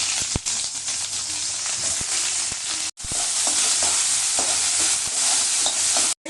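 Onions frying in oil in a pan at home, a steady loud sizzle with stirring scrapes and clicks throughout, dropping out briefly near the middle and again just before the end, with no talk.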